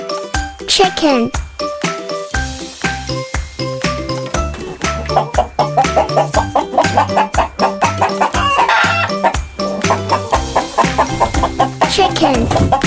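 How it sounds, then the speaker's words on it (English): Chickens cluck in quick, busy bursts and a rooster crows among them, all loud and close, with jingling music and a voice naming the bird over the flock. "Chicken."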